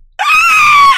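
A man in a wheelchair lets out one sustained, loud scream lasting about a second, harsh and strained from start to finish, rising abruptly out of near silence and cutting off sharply.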